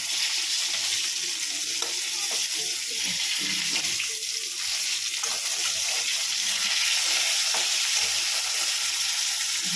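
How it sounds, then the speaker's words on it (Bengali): Fish sizzles steadily in hot oil in a pan, a dense, continuous frying hiss close to the microphone, with faint stirring and spatter throughout and no voices. "এই এদিকে মাছ ভাজা হয়ে গেছে, মাছ ভাজছে"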